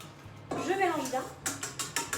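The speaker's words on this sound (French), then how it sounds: "Je mélange bien." Utensil scraping and tapping in a bowl while mixing blueberry muffin batter of eggs and liquid ingredients, with a burst of quick rhythmic strokes after a short spoken phrase, close and clear.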